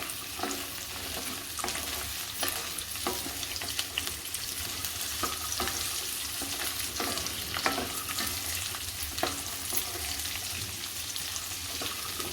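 Peanuts fry in oil in a pan for vari rice pulao, giving a continuous, dense, close sizzle with crackling pops and occasional stirring scrapes, with no voices.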